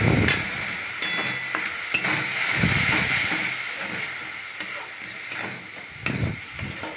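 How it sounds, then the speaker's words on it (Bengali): A semolina and milk filling hisses and sizzles in a hot pan while a spatula scrapes and stirs it in uneven strokes, loud and close, with no speech. "দিয়ে ভালো করে ভেজে নিলাম"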